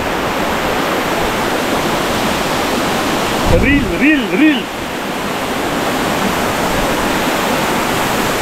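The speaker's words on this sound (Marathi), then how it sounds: "मी ज्या धबधब्यात भिजतोय ना तो धबधबा इंडियामध्ये कुठेतरी टॉपला असतोय." A waterfall in Kolhapur pours down in a loud, steady broadband rush that fills the whole clip, with a voice speaking briefly over it near the middle.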